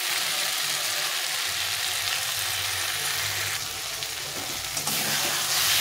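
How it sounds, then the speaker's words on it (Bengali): Spice paste fries hard for a katla fish curry, giving a loud, dense, continuous sizzle that hisses evenly throughout with faint stirring underneath. "সময় ধরে এইভাবে মশলাটাকে কষিয়ে নিতে হবে, যেন কাঁচা গন্ধ না থাকে।"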